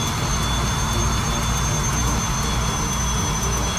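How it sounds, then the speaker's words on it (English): Jet engine roar with afterburner in a flight simulator game, a loud steady broadband rumble with a high whine, continuous and alone. "auto-throttle keeps just kicking my afterburner in every now and again"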